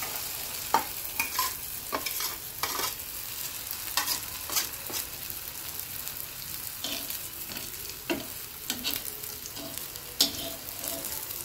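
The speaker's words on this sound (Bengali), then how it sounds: "এবার আমি এটাকে একটু তেলে ভাজবো" Pieces of mung dal barfi fry in hot oil, giving a steady sizzle broken by irregular clatters of stirring, with no voices.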